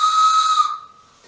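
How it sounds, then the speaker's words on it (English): A locomotive whistle blows one loud steady tone, close and alone, then cuts off and leaves a faint hiss. "So the locomotive has a distinct whistle, which is kind of cool."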